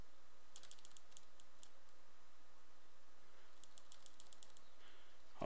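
Fingers type on a computer keyboard in two short bursts of rapid clicking keystrokes separated by a pause, fairly faint over a steady background hiss.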